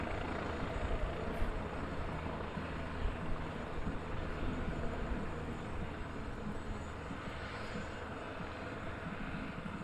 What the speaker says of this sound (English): we have